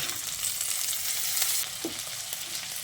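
Chopped tomato and a pinch of asafoetida sizzle and fry steadily in a hot pan, a dense hiss with a brief stir-like clatter partway through, no talking.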